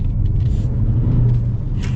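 A 2023 Ford Escape ST-Line with the 2.0-litre turbo engine accelerates, its steady deep engine drone loud and close from inside the cabin, with no talk.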